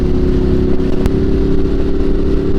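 A Ducati Monster cruises along with a steady, droning engine rumble and buffeting wind noise. The sound is loud and constant, with one brief click near the middle.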